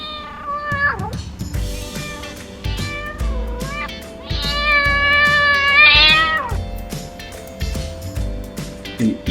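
A domestic cat meows repeatedly, with drawn-out, insistent cries of varying pitch, one long, loud, wailing meow in the middle, close and clear.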